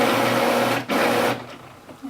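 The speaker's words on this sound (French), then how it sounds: "Je suis désolée, mon imprimante a décidé de s'éteindre." A home printer whirs mechanically and steadily, a loud close motor drone with a brief dropout partway through, then fading as it shuts off.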